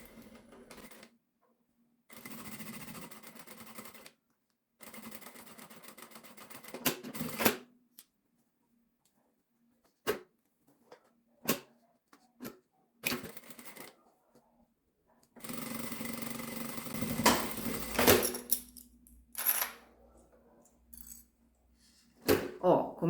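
Domestic sewing machine backstitching over a small crossbody bag strap, with short bursts of rapid stitching separated by pauses, plus a few clicks.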